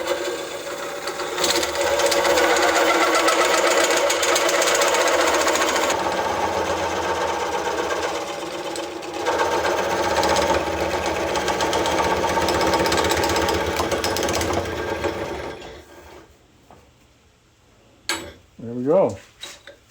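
A wood lathe coring a laminated bowl gives a loud, continuous grinding drone with harsh squealing, then winds down to quiet with a brief pitched whine near the end.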